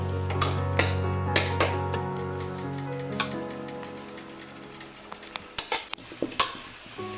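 Fried rice being stirred and tossed in a pan with a spatula, several sharp scraping clicks and knocks over a faint steady sizzle, close and fairly quiet with no talking.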